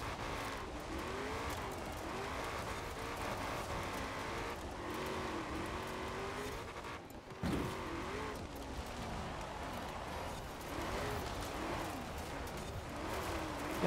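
A Ford Falcon FE in Forza Horizon 4 roars steadily around a dirt course, its loud engine revving up and down through gear changes with a brief dip midway, and no voices over it.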